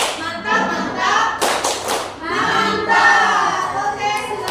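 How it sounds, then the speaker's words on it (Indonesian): A group performs a rhythmic call-and-clap cheer at a teachers' training workshop in Palembang, voices chanting in time with sharp bursts of clapping that swell and fade in short phrases. "Kita beri tepuk mantap dulu, Pak Mezi."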